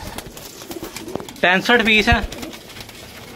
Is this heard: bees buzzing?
no